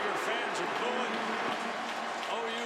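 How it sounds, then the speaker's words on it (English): Auburn Tiger fans booing across a football stadium during a game against Oklahoma, a dense continuous crowd roar with sustained vocal tones, steady and loud throughout. "Tiger fans are booing."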